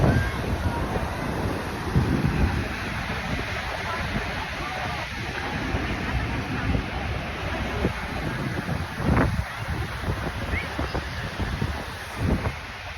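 Ocean waves and gusting wind at a Florida beach, a constant blustery rush buffeting the microphone, with breaking surf swelling in and out beneath it.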